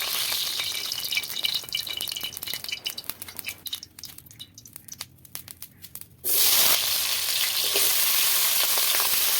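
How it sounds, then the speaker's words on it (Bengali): Potatoes fried in oil in a wok: scraping and rattling at first, then a sudden loud burst of sizzling that stays strong and close to the end, with no voices. "এরপর কড়াইয়ের মধ্যে তেল দিয়ে দিয়েছি। তেল দিয়ে আলুগুলোকে ভেজে নেব।"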